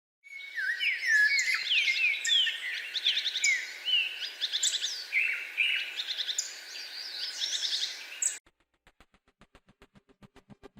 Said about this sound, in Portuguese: Periquito feather duster.